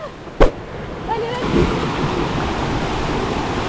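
River water rushes steadily over stones at a rocky river crossing in the Salta yungas, a broad close wash of flow with a brief sharp knock near the start and no talking.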